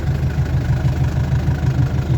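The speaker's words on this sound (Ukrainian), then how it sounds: "Зараз теж пшеничком сіяла моя сівалка і трактор." A tractor engine idles close by, a steady low throbbing rumble that stays even and alone.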